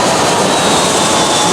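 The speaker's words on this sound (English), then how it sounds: "I feel like we're watching the planes come flying in like we were in Phuket." An airplane flies in to land near Samui Airport in Thailand, a loud, steady jet engine roar with a faint high whine, filling the whole stretch without talk.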